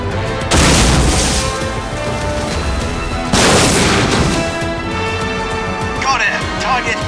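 Two heavy booming explosions of a missile striking its target in a sci-fi combat scene, each a sudden loud blast with a rumbling tail, a few seconds apart.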